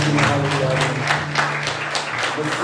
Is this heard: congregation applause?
yes